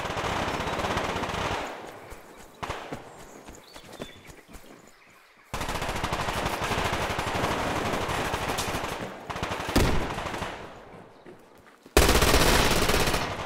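Machine gun fire in the online shooter Survarium, loud sustained bursts of automatic gunfire broken by short pauses and single sharp shots, continuous near the start and end with quieter stretches between.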